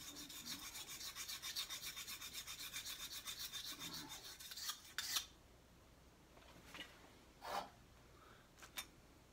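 A homemade scrap steel arrowhead is rubbed back and forth on a cheap sharpening stone in quick, even rasping strokes for about five seconds, followed by a few faint isolated scrapes.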